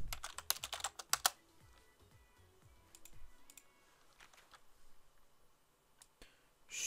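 Fingers type on a computer keyboard into an online translator, a quick flurry of close, crisp keystrokes at first, then sparser, softer clicks and taps.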